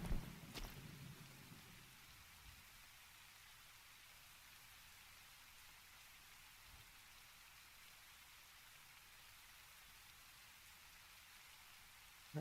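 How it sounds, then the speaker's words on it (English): Steady rain falls in the Taris Land MMORPG video game, a soft, even hiss of drops on surfaces that runs alone for the whole stretch after a brief bump at the start. "I love it when it rains."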